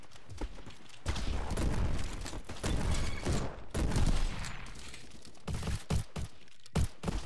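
A Model 1887 lever action shotgun fires repeatedly in a video game, with heavy blasts and mechanical clatter that break into sharp separate shots toward the end.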